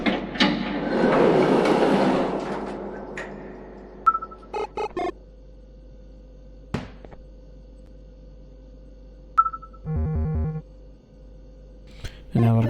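A train arrives in the horror video game Garten of Banban II, a rumbling roll that fades out, followed by sparse clanks and repeated chiming game tones over a low hum.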